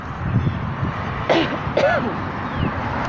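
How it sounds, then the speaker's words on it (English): Two short, rough throat-clearing coughs sound close by at about the middle, with a low steady background hum throughout and no talking. "I almost feel like I had to cough."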